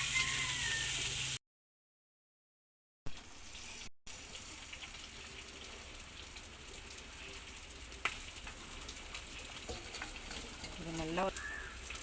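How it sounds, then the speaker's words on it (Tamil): Fish frying in oil over gentle medium heat for a village-style fish curry, a steady close sizzle with brief gaps of silence and a few faint clinks near the end. "சிம்மில் வச்சுக்கிட்டு மீனை வறுக்கலாம்."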